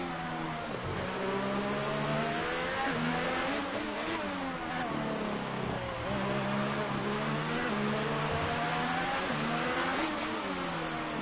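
Formula 1 car engine in the F1 2018 racing game, a McLaren at the Mexican Grand Prix, revving steadily and loud with rising and falling gear-change sweeps throughout, no talking.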